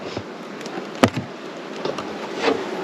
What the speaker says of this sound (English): this one, you see the bees in the middle. They're working there on making honey